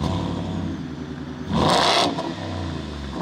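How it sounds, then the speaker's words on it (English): Exhaust on a 2020 Ford Shelby F150 with a 770 hp engine and Shelby-tuned Borla performance system: a steady rumbling idle broken by one sharp rev blip that swells and falls back to the idle. "It is a Shelby tuned Borla performance exhaust and it sounds awesome."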